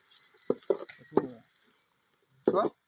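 Onions tumble into a hot pan and are stirred for village-style garlic chicken thokku: a few sharp scraping bursts with quiet sizzle between, then one more stir near the end.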